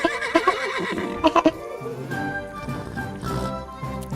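A giraffe character in the SpongeBob SquarePants: The Cosmic Shake video game lets out a loud, close horse-like neigh, preceded by a few sharp clopping hits, then a long quavering whinny that trails off.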